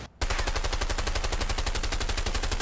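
Rapid automatic gunfire from the video game A Way Out, aimed at a camera: a loud, steady stream of closely spaced shots following a short quiet moment at the start.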